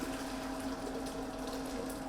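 Boiling water from two kettles pours steadily into a cooking pot for pasta, a continuous close rushing gush with a low hum beneath and no voices.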